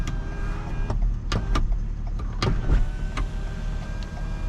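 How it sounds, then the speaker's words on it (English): A power tilt-and-slide sunroof on a 2021 Toyota Sienna XLE Hybrid hums steadily as its motor runs for several seconds inside the cabin, with a few faint clicks and ticks along the way and no talking. "So power tilt and slide sunroof."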